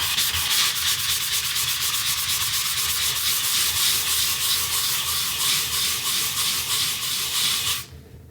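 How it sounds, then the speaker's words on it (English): Hand sanding of a painted touch-up spot on a stairway wall: steady, close, rhythmic back-and-forth scratchy rubbing strokes for about eight seconds, stopping abruptly at the end with no talk. "I'm gonna sand this and see if it needs another coat"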